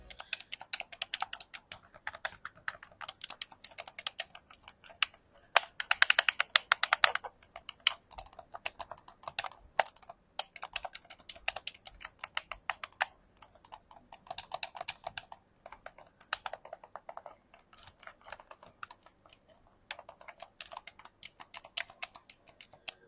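Quick plastic clicks from a Sades Ryunix G80 gamepad's buttons come in rapid bursts and short pauses, close and fairly quiet, as buttons are pressed repeatedly.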